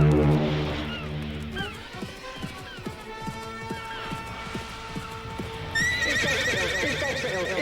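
Horses neigh and whinny over rhythmic hoof clip-clops, woven into a sample-based song, with a brighter musical layer entering near the end.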